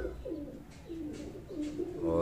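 Breeder pigeons of a high-flying kabootar breed cooing close by in soft repeated throaty rolls, about four low phrases in two seconds, over quiet background hum.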